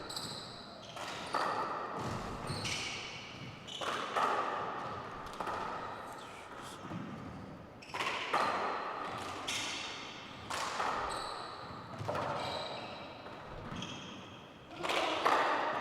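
A fast professional men's racquetball semifinal rally in Tucson, Arizona, with repeated sharp ball smacks off the walls and glass every second or two, racquet strikes and squeaking shoes echoing in a court.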